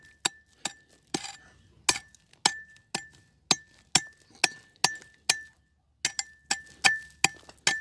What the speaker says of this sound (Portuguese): O bom seria cavar isso aqui. É cavando e cavando.